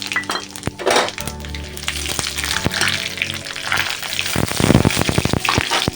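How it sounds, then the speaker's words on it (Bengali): Dried red chillies, a bay leaf and five-spice seeds hit hot mustard oil in a kadai, giving a bright crackling sizzle with sharp pops and a few metal clinks, close and steady, no talk. "এবার আমি এই যে শুকনো লঙ্কা, তেজপাতাটা ফোড়ন দিলাম, আর দিলাম 5 ফোড়ন।"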